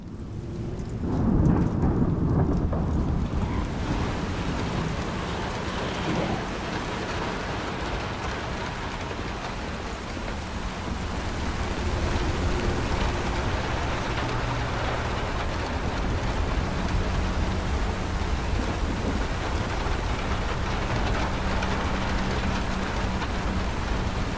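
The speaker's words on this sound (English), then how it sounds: "if I make it start raining, you'll start to hear raindrops on the various vehicles scattered throughout the space" Steady rain patters on vehicles scattered across an outdoor area in an Unreal Engine horror game, with a deeper rumble early on. The hiss is continuous and even, moderately loud, with no voices.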